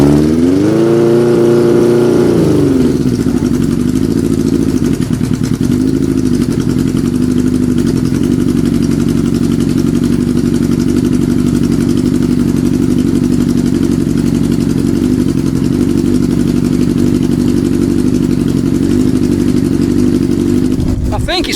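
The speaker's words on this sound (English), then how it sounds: "I think it's running on all four cylinders" A restored Kawasaki Z650B four-cylinder motorcycle engine catches with a rising rev, then settles into a steady, loud idle close by that continues unbroken.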